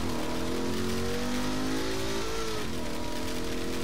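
A car engine revs loudly and steadily in the video game Saints Row: The Third, pitch rising and then dropping around a turn during a chase.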